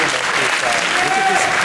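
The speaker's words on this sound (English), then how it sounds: "Give him a round of" Audience applause at a live hypnotist stage show, loud continuous clapping from a crowd filling the whole moment, dense and steady with no gaps.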